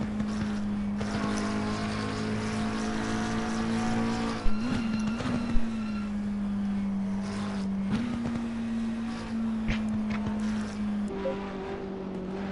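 GT3 race cars in a sim racing game scream past the pit straight at Paul Ricard, a steady high engine drone with pitch shifts as cars pass close by, loud and alone.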